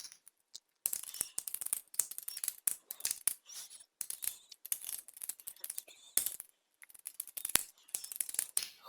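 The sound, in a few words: typing on a keyboard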